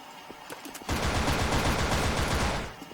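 Sustained rapid gunfire from a weapon in the online shooter game Wolfteam, a dense automatic burst that starts abruptly after a few faint shots and runs loud and steady for about two seconds before tapering off.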